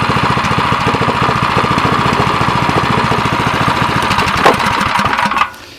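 A DuraMax XP7.0HPE 7 HP electric-start engine idles close by, a loud steady rapid chugging pulse that runs evenly before cutting off and winding down at the end.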